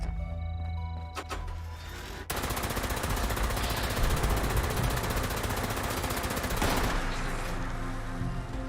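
Rapid automatic gunfire rattles continuously at close range while shooting Scorched enemies in Fallout 76, a dense unbroken stream of shots after a brief quieter opening with electronic tones.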